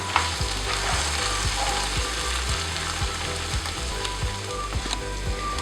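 Prawns fry in hot oil in a pan with a loud, steady sizzle, broken by regular soft clinks and scrapes of stirring.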